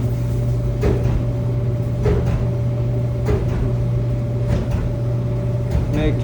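A Samsung DVE52M8650V/A3 dryer with a heating fault tumbles its drum: a constant low hum and rumble with a soft knock roughly every second as the load turns, close and steady.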